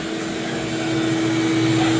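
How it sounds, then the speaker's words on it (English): Duct-sweep vacuum unit running outside a home, a steady, loud mechanical drone with a constant motor hum held evenly throughout, with no speech over it. "So the vacuum set up outside"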